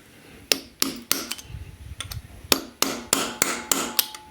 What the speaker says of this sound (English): I'm just cutting the bolt.